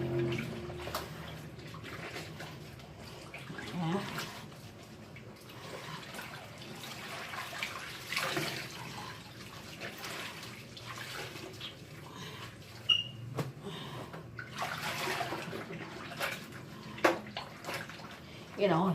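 Clothes scrubbed by hand in water, a low-budget washing method, giving steady wet rubbing and sloshing with irregular louder swishes throughout, close and moderately loud.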